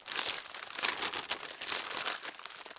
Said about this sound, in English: He felt a bundle of newspapers and pulled it out. He quickly unwrapped it.